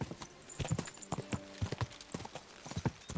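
Rhythmic clip-clop of a ridden horse's hooves in Kingdom Come Deliverance 2, a steady run of close, crisp hoofbeats with no speech.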